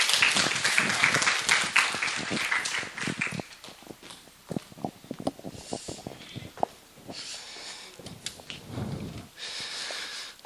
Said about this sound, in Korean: 우리 김호현 전사님 박수로 모시도록 하겠습니다.